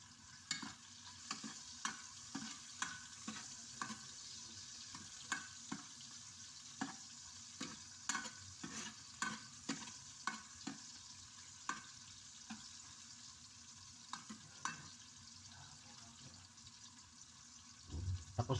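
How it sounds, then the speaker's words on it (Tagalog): Garlic and onion frying in a pan, with a steady sizzle broken by repeated sharp scraping and stirring strokes that come in an uneven rhythm, close by and with no one talking. "Pag pinirito nyo yung pagprinito nyo yung bawang at sibuyas,"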